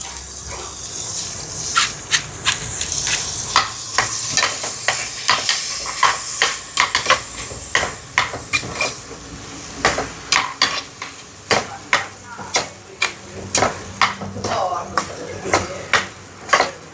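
Broken wheat being stirred in ghee in a pressure cooker makes a loud, close sizzle with rapid, rhythmic scraping strokes that grow sharper and more spaced toward the end.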